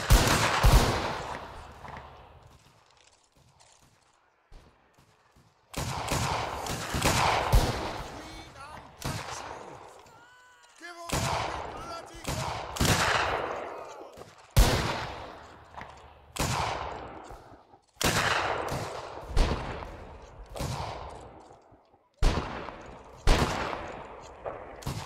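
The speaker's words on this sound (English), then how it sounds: "Fire well." Black-powder musket volleys in Mount & Blade Warband, Anglo Zulu Reloaded event, a series of loud cracking bursts repeating every few seconds, each trailing off into a rolling echo, with occasional shouted orders between them.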